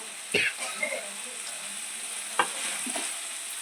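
Cashews hitting a hot pan and frying with a steady hiss, a few distinct stirring scrapes and clicks rising over the sizzle.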